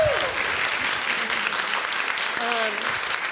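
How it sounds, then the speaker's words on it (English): Audience applause fills the room, steady dense clapping, with a few voices faintly calling out underneath. "And a big round of applause for Beth."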